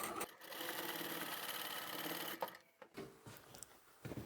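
A sewing machine stitches steadily along a folded blouse hem in a rapid, even mechanical whir for about two seconds, then stops, followed by scattered soft handling clicks and rustles of fabric.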